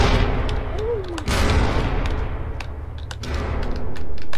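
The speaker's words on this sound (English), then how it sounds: "It's like it's firing tank shells." A big gun firing tank shells in the People Playground game gives repeated heavy booming blasts that run together into a continuous loud rumble. One brief whistling tone sounds early on.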